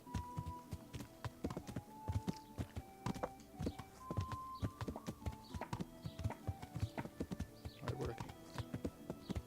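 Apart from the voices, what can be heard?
horses clip-clopping at the stables in Kingdom Come: Deliverance video game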